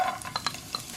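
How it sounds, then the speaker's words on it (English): Food frying in a pan of hot oil over medium heat, likely alfalfa sprouts being quickly fried, gives a faint, close sizzle with a few brief crackling ticks over one second. "frying pan on, medium heat, little bit of oil."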